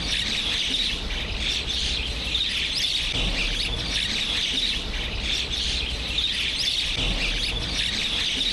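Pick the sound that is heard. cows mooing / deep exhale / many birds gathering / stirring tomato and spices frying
many birds gathering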